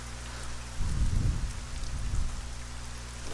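Steady rain in the fantasy video game ArcaniA, a continuous hiss of falling water over a deep rumble that swells like rolling thunder partway through, with no talk.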